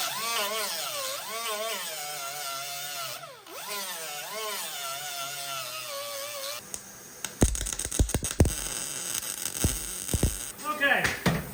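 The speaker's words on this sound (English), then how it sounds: "I'm actually gonna grind this down a bit so I can get the nut welded" An angle grinder grinding down metal on a 1968 Cutlass to prep for welding a nut. A steady, wavering whine with some voice comes first, then harsh, uneven grinding bursts start and stop through the second half.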